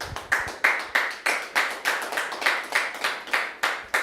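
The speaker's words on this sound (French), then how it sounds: "Merci de recevoir Monsieur Kofi sous vos applaudissements" Studio audience on a French talk show clapping to welcome a guest, a steady run of sharp hand claps in a regular rhythm, close and fairly loud, with no voices over it.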